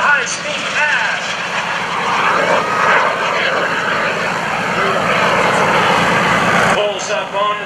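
An FLS Microjet roars through a 220-knot high-speed pass at a lakeside airshow, its loud, sustained jet whine building and holding close, while an announcer talks over it.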